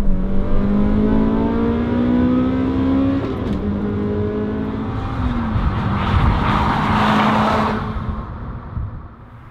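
A naturally aspirated Toyota Celica VVTLi 190 engine revs hard, drops briefly at a quick shift from second to third, then climbs again to a loud, high-pitched wail before fading off.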